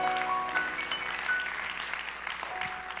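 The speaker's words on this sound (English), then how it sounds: "Can you give them a hand clap of appreciation?" A church congregation applauding with hand claps: soft, dispersed clapping fills the room at low level while a few sustained musical notes ring out over it.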